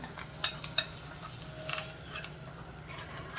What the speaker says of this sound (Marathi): आणि ही फोडणी आपण याच्यामध्ये घालू.